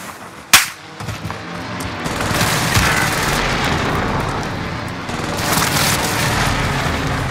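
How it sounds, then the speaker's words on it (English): Airstrike explosions in Call of Duty: Modern Warfare: one sharp, loud blast, then a sustained roar of rumbling detonations and debris that swells again near the end. "Enemy precision airstrike."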